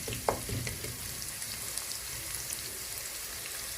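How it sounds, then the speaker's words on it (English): Onions fry steadily in a pan, giving a continuous close sizzle with scattered small pops and crackles and no talking. "I'll let the onion cook as long as they don't burn up"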